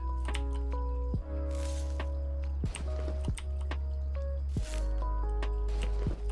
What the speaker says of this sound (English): let's get our garlic up. Let's harvest this bad boy.